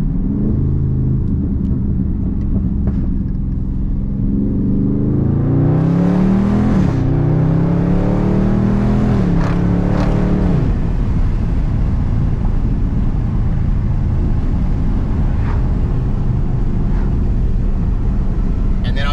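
Dodge Charger Daytona 392 engine dropping down to second gear, a loud close rumble whose revs rise and climb in pitch for a few seconds mid-clip before settling back into a steady drone.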